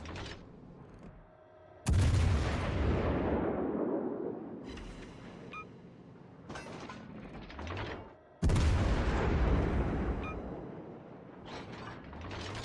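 Warship main batteries fire in World of Warships Legends, with two heavy booming salvos several seconds apart, each followed by rumbling decay and mechanical clatter.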